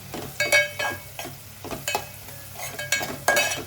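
Dry fish curry with tomato frying in a pan, stirred slowly over low heat: soft sizzling runs underneath while a spoon scrapes and clinks against the pan in repeated, uneven strokes, close and clear, with no talking.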